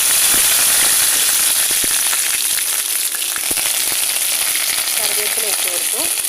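Ginger, garlic and curry leaves sizzle in hot oil with mustard seeds, giving a loud, close, continuous hiss with dense crackling and spitting throughout.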